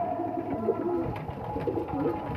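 Pigeons eating soaked chickpeas at night give a few soft, low cooing calls close by, over a rustling background of birds moving and pecking.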